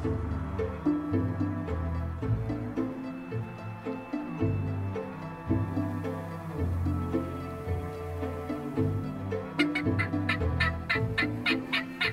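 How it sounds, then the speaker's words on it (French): A dense chorus of wild turkeys gobbling during a hunt, many birds calling over one another in overlapping bursts, loud and continuous with no pauses. "Il y a des dindons partout."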